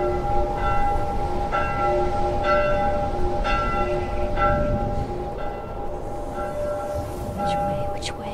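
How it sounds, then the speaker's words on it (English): Church bells in The Last of Us toll in an even series of strikes about a second apart, ringing out clearly over a low background rumble. "hear bells."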